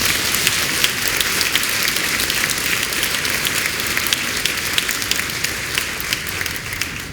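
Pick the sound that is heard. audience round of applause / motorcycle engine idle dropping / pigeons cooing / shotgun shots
audience round of applause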